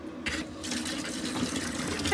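Water pours steadily into a chicken waterer, a continuous close splashing and filling rush with no voices.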